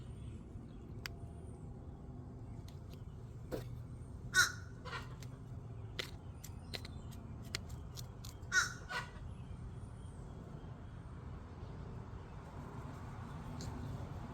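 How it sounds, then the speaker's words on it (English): A crow caws a few times at a middle distance over an outdoor garden where squash seeds are being planted, with two sharper calls standing out above low, steady background rumble and no talking. "Oh, that's a crow."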